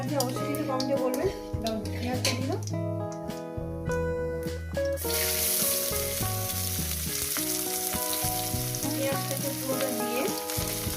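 Frying in a pan while making omelette posto, a soft steady sizzle running under background music, with light stirring scrapes along the way.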